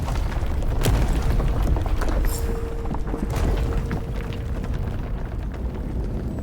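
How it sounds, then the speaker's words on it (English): A big explosion in the Avowed video game, heard from below in lava tubes beneath a keep near a smithy: a deep, rumbling boom that swells and rolls on continuously for several seconds, with scattered crackles and a faint steady tone. "That was a damn big explosion, wasn't it?"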